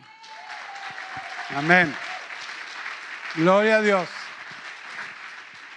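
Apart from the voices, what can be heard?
applause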